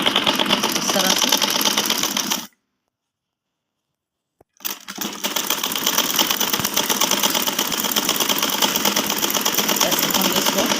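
Sewing machine stitching a kurti, running loud and steady in a continuous whir, then stopping for about two seconds of silence before starting again and running to the end.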